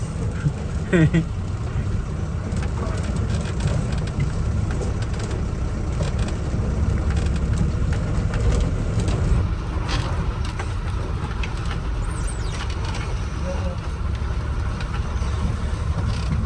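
Loaded goods truck creeping along a narrow, rough road to a factory in India, with a steady low engine rumble and rattling body noise going on unbroken with no talk.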